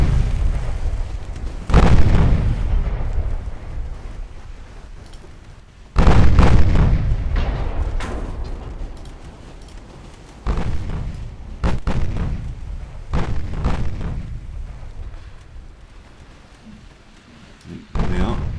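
Torpedo hits and gunfire explosions in a naval battle in the Ultimate Admiral Dreadnoughts game: several heavy, booming blasts a few seconds apart, each decaying into a long rumble, with continuous battle noise between them.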